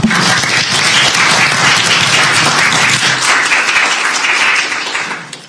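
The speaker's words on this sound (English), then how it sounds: "Let's give our speaker another round of applause." Audience applause at the close of a talk on Heinie Aderholt and Alabama's Vietnam legacy: dense, sustained clapping from a room of listeners, steady and loud for about five seconds before tapering off at the end.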